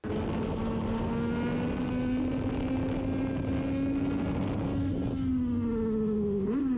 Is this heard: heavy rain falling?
no